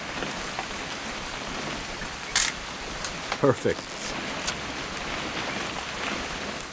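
Steady rain hiss from the video game What Remains of Edith Finch, a continuous wash of falling rain throughout, with a few brief louder knocks and a short spoken word over it.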